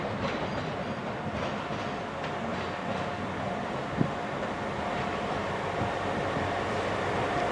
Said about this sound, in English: Here comes the 2056 Transport for Wales service to Manchester Piccadilly.